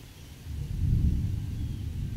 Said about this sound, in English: Oh, starting to get bad lightning.